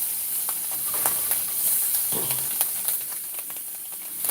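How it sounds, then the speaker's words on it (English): Bacon fries in a pan with a steady, close sizzle and hiss, broken by small pops and spits, with no voices over it. "Frying up my usual bacon."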